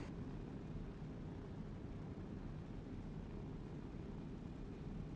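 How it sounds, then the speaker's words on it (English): C-130J transport aircraft taking off in a modded flight game, with a steady, loud broadband engine roar and low rumble held constant throughout, no voices. "We have takeoff."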